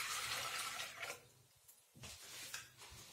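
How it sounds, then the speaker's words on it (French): Lukewarm water is poured into flour for panzerotti dough, a close, bright splashing pour for about a second, then quieter trickles and a few short bursts of running water. "Donc, on y met 250 grammes d'eau tiède,"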